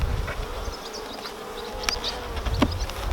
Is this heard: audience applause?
no